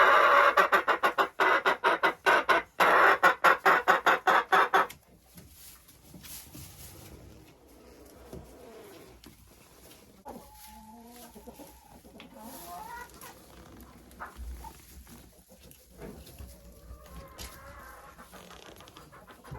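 Old laying hens kept shut indoors in a winter henhouse during hard frost: a loud burst of rhythmic clucking and cackling at first, then softer scattered clucks and murmurs from the flock nearby.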